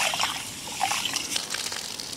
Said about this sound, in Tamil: இப்போ கொள்ளை வந்து ஒரு 2-3 தாட்டி தண்ணி ஊற்றி நல்லா அலாசி எடுத்துகிட்டு வந்துடலாங்க.